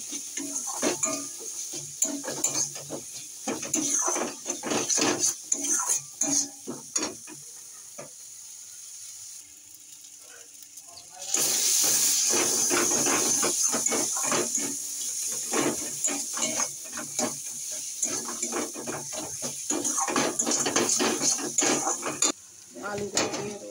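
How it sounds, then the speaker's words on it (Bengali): Turmeric, cumin and chili powder masala fries in a pan, with a close scraping stir of the spatula, pot clatter and an intermittent sizzle that swells into a steady loud hiss about halfway through. "মশলাটা ভালো করে কষাতে হবে।"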